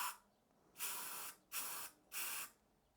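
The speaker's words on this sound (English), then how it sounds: "Again, just spraying straight in here." Three separate bursts of aerosol spray fired straight into a container, each a sharp, close hiss of about half a second, with short quiet pauses between them.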